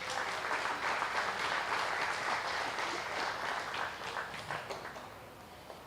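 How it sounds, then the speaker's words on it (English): An audience at a dairy cattle show claps for a group of Jersey cows, steady dense applause from a crowd that tapers off slightly toward the end. "So let's give them a nice round of applause."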